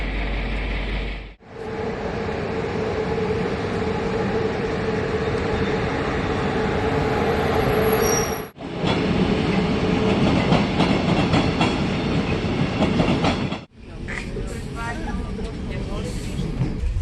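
A passenger train on the Podgorica to Kolašin line rumbles steadily with clickety-clack of wheels in several continuous stretches split by short gaps, and voices can be heard over the rolling noise.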